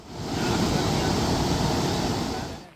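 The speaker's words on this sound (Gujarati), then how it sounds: "હેરણ નદી પરનો આડબંધ ઓવરફ્લો થયો" Loud, continuous rushing water roars steadily as a river spills over a weir in monsoon flood, fading in and out at the edges.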